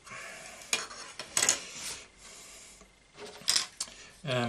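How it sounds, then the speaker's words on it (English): A knife cuts slots for straps in cardboard, making several short scraping and snapping bursts with pauses between them, close and fairly quiet, ending in a brief rising squeak. "we need to cut the slots to put the straps through"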